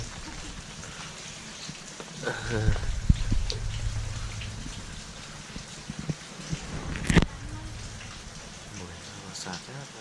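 Morning rain falling over rice fields among mountains in rural Laos, a continuous soft hiss of drops on surfaces with occasional louder splashes and knocks, steady and fairly close, with no clear speech.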